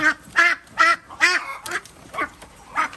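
Ducks quack in a series of loud, nasal calls, several in quick succession, then a few fainter quacks further off, as breeding ducks are caught on a farm.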